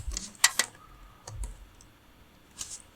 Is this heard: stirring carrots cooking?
no